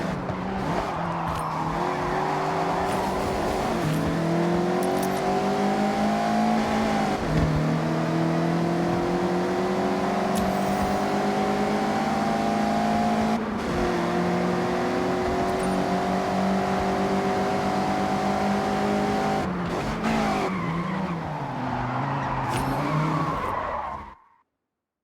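A Mazda MX-5 races and slides sideways through corners in the Forza Horizon game. Its loud engine note rises and falls with tire squeal for about twenty-four seconds, then cuts off abruptly.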